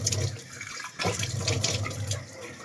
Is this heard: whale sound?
no